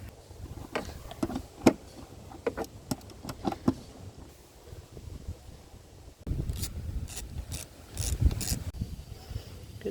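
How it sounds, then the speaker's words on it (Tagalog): A ratchet removes the 10mm bolts from the timing cover of a 2015 Toyota Hilux, with bursts of quick metallic clicking, some scraping and rubbing between turns, heard up close. "Tinatanggalan natin yung mga 6 na bolt."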